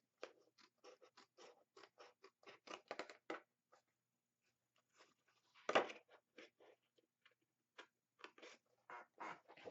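Scissors snipping a score-line strip from paper for a scrapbook mini album, a run of quick faint close cuts, a pause, then more cutting, with no talk.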